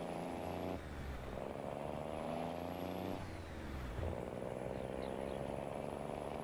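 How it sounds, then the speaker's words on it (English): A truck engine in Farming Simulator 19 drones steadily as the vehicle drives along, a low, even rumble with slight shifts in pitch and brief dips, quiet and continuous with no talking. "do love the sound of this truck."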